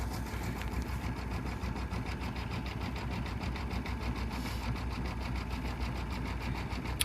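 A sewing machine running a steady satin stitch on a towel, continuous fast mechanical whirring and needle chatter at close range throughout.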